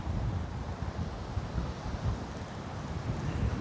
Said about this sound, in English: If you guys hear a lot of wind, it is very windy here along the shore.